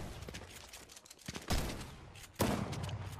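Fortnite gunfire, rapid bursts of shots in quick succession with two louder blasts standing out, close and dense, with no talk over it.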